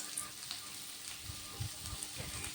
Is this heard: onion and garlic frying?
yes